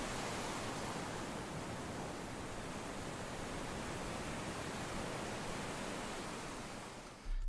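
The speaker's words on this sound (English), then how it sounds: "we'll add the sound of some waves" A beach wave sound effect plays as a soft, continuous wash of surf, a faint steady hiss with no distinct breaks before it cuts off at the end.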